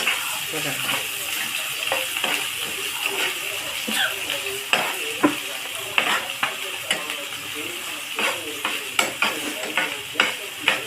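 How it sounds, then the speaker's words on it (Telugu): Bitter gourd with onions fries in a pan, giving a constant sizzle broken by frequent sharp scrapes and clinks from the stirring spoon, close up, with soft speech in the background. "ఇంకా బాగా ఫ్రై అవ్వాలి."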